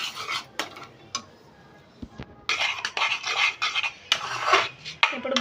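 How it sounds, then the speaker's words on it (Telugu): Thick jaggery syrup stirred in a pan after the stove is switched off, a busy run of scraping, rasping strokes of a spoon against the metal, close and loud, with brief pauses between bursts. "స్టవ్ ఆఫ్ చేసుకొని ఇలా కలబెట్టుకుందాము."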